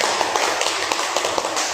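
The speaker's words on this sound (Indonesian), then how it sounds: "Boleh tepuk tangan untuk pertanyaan Putri." Classroom applause: a short burst of light, dense clapping from a group of students, steady and fairly close, with no talking over it.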